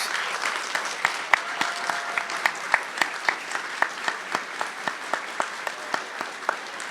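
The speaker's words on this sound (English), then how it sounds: "Let's give you a round of applause" An audience claps for mothers standing up at a spring 2024 college commencement ceremony. The crowd applause is dense and sustained, with sharp claps landing in a steady rhythm throughout and no talking.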